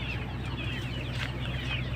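A flock of chickens clucks continuously in the background, many overlapping calls over a steady low hum, moderately loud and unbroken.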